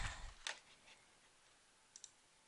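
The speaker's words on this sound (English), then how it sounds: "Keyboard's going wild." A computer keyboard clicks in a few sharp, quick taps, loudest at the start and then sparse and faint, with short pauses between clicks in a quiet room.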